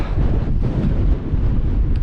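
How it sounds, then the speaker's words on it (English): Strong 20–25 knot wind at sea, heard from a small boat on a beam reach in Denmark between Samsø and Grenaa, buffets the microphone as a steady, loud, low roar with no let-up. "we have around 20 knots and 25 in the gusts"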